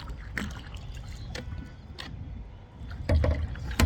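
A rowboat moves across a lake in Diabari, Dhaka, with soft water swishes and splashes from oar strokes at an irregular pace, plus faint knocks of wood, close by.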